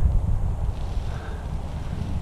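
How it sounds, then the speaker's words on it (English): Gusty Santa Ana wind of over 20 mph buffeting a microphone at a local park while kiting, a steady low rumbling roar that swells louder at the start and keeps blowing throughout, with no voices. "Then you know the wind is being too strong."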